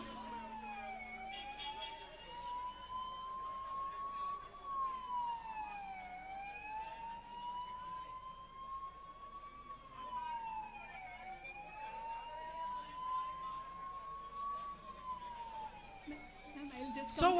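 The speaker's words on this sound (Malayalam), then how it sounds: "Another ambulance is coming." An ambulance siren wails in long rising and falling sweeps through a street near a political rally in Kerala, moderately distant and steady throughout, with a faint voice and traffic murmur beneath.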